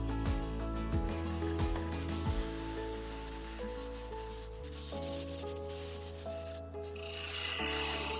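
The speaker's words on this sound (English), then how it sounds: "I used 80 grit sandpaper to grind away the excess" Sandpaper of 80 grit rubs against a cherry wood bowl turning on a lathe, a continuous close scraping hiss over the machine's steady tonal hum.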